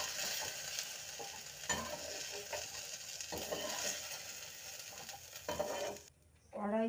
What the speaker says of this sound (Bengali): এখন আমি ভেন্ডিগুলোকে ভেজে নেব।